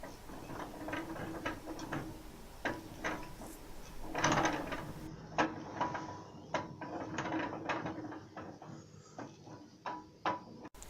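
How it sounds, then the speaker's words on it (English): A restored railway pump cart's crown wheel and pinion gears turn its axle, giving a quiet, steady run of mechanical clicks and ratcheting ticks with faint rattles and a low background hum. "this is the first time that the axle has actually been turned by the crown wheel"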